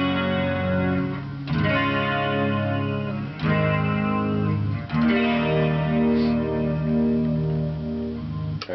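Clean electric guitar on the neck pickup, warm sustained chords ringing out in several strummed phrases, with a chorus-like shimmer and no talking.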